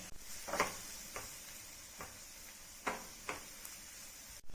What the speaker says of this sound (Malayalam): ഇതിലേക്ക് അല്പം ഉപ്പും കൂടി ചേർത്ത് വഴറ്റി കൊടുക്കാം